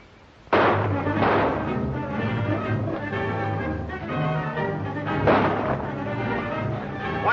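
Gunfire rings out in a shootout from a 1947 western film, with a sharp loud report near the start and another burst later, set over a continuous dramatic orchestral score.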